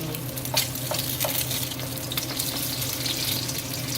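An egg fries in a hot pan with a steady close sizzle and a few brief clicks or taps, with no talking.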